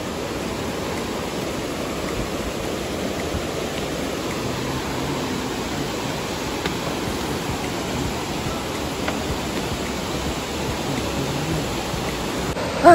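A river flowing at Kundasang gives a constant, even rush of water that stays at one level for the whole stretch, with no voices.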